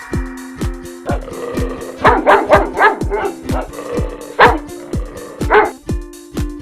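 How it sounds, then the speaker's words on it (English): A dog barks repeatedly in short sharp bursts, several in quick succession, loud and close, over a steady rhythmic musical backing from a children's phonics song. "D for dog."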